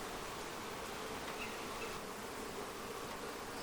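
Honey bees swarm around an opened Flow Hive, a dense continuous buzzing hum at moderate level with no pauses, heard close with no speech.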